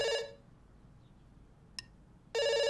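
An electronic telephone rings in two bursts separated by a short pause, with a brief click in between, clear and fairly close, in the video game Dr. Langeskov, The Tiger and The Terribly Cursed Emerald.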